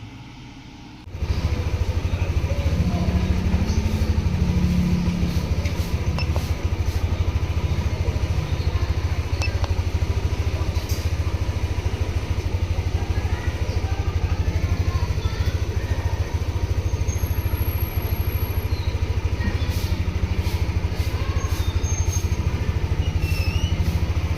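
A Yamaha Aerox scooter engine, its throttle area opened up and suffering from rusted parts, runs at a steady idle after starting, a constant low hum close by for most of the stretch with no talking.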